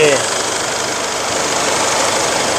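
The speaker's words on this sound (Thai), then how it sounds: "เครื่องเงียบนะครับไอไม่มีนะ ไอแทบไม่มีเลย" Four-door lifted Isuzu Hi-Lander pickup with an automatic gearbox sits idling, a steady, fairly loud mechanical rumble with no revving, and a voice talks over it throughout.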